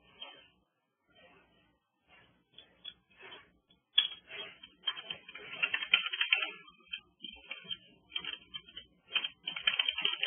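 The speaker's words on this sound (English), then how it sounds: "I didn't type the name right." Fast typing on a computer keyboard, bursts of clicky keystrokes that grow busier and louder in the second half, close and alone with no talk.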